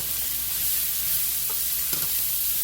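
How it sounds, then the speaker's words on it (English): Food sautéing in a couple tablespoons of olive oil for a savory lamb stew, a steady close sizzle running throughout with a few faint clinks and stirring knocks, no voices. "I'm just going to let these saute."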